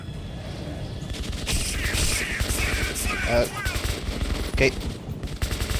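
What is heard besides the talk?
gunfire in Metro 2033 video game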